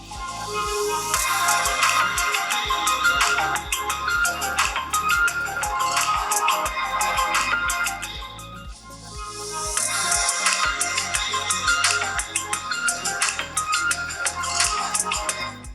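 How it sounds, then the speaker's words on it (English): A melodic phone ringtone played through the stereo speakers of an iQOO 13 and a Realme GT 7 Pro, repeating in a steady rhythmic pattern and fairly loud, with a brief dip midway before it resumes. "This is how the stereo speakers of both these phones sound."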